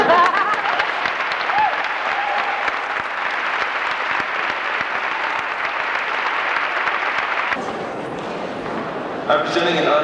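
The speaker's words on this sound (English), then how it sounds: "let's start clapping for her again" Applause for a teacher at a graduation ceremony, a large audience clapping steadily for about eight seconds before it thins, then a voice starts speaking over the last moments.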